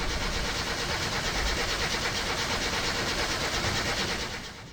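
A car engine in the video game My Summer Car, rebuilt with a realigned camshaft, cranking and running with a rough, fast, steady mechanical chatter that holds loud throughout, then eases off at the end.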